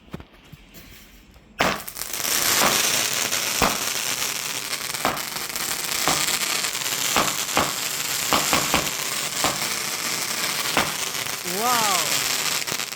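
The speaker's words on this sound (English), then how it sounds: "Oh, there's the firework." Bonfire Night fireworks burst in Swansea, Wales: a quiet start gives way to a steady roar of crackling and sizzling, punctuated by a dozen or so sharp bangs. A rising whistle-like sound appears near the end, and voices are faintly present.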